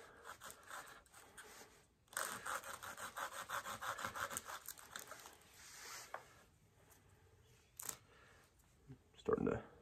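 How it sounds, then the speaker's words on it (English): Rhythmic back-and-forth hand sawing strokes producing fine dust for fire-starting, close and steady, a quiet pause, then a few scraping rubs at the end. "just come in, start sawing. And it creates a very fine dust."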